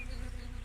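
Honey bees buzz in a steady, close, dense drone as a frame is shaken over the brood box during a hive inspection.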